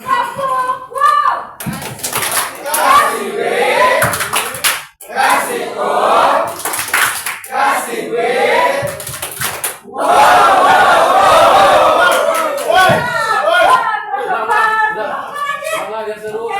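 A lively group claps in short rhythmic bursts between loud shouting and excited chatter, with laughter and children's voices mixed in up close.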